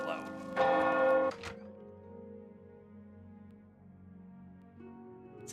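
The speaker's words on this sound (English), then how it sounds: "that bell is loud" Loud bell ringing in the video game Oblivion Remastered, a strong clanging strike whose tone rings on and slowly fades, with another strike at the end, under game ambience.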